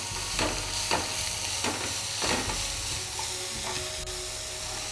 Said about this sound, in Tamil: ரொம்ப இந்த காயை போட்டு வதக்கிடக்கூடாது, நம்ம ஒரு அளவுக்காக தான் வதக்கணும்